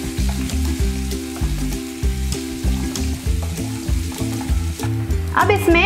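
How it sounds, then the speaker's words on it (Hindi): Cumin and onions fry in oil in a pan over a medium flame, giving a steady close sizzle broken by regular stirring scrapes, with a brief clatter at the end. "इसी तेल में जीरा डालेंगे, प्याज डालेंगे और प्याज को सॉफ्ट होने तक पकने देंगे"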